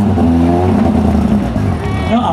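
Skoda Felicia rally car at the Rally Příbram revs hard and drones past with a steady engine note, loud and close, while a commentator talks over it.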